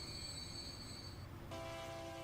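A train waits at a station in Transport Fever, heard as a faint, steady rumble with thin sustained squealing tones that shift pitch partway through; no one speaks.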